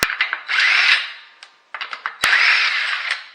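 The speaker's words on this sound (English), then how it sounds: "impact wrench or impact gun with an adapter for a 3/4 inch socket and then a 21mm socket" An impact wrench fitted with a 3/4 inch adapter and 21mm socket zips off lug nuts on a 2016 Toyota RAV4 during front brake work, giving two loud, close sustained bursts with sharp hammering clicks and short trigger pulses between them.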